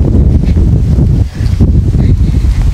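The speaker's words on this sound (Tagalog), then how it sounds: "Masarap yung hangin." Strong wind buffeting the microphone, a loud low roaring rush that gusts continuously with a brief lull midway.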